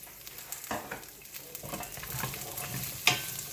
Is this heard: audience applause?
no